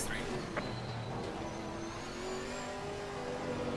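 Race car engine from the Assetto Corsa Competizione GT4 sim racing game, a steady, loud drone with rising whine as it revs, continuous throughout.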